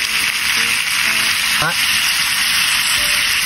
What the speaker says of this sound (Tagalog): So haluin lang natin ng 3 minutes to mga pare ko.